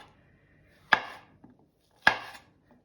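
A knife slices thickly through mushrooms on a cutting board for barley soup, two crisp, separate chops about a second apart, each with a short soft tail, in a quiet kitchen.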